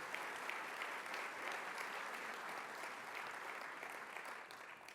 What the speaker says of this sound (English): Let's have a round of applause for the GA team